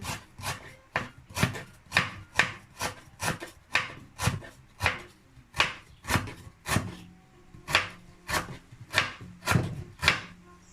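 Steady knife chopping of galangal on a cutting board, about two brisk cuts per second, close and crisp, continuing throughout with no talking.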